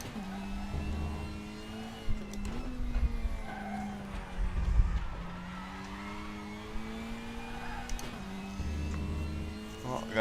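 A WTCR touring race car at Zandvoort in RaceRoom Racing Experience, engine humming through gear changes with intermittent tire skids and scrubbing, moderately loud and steady throughout.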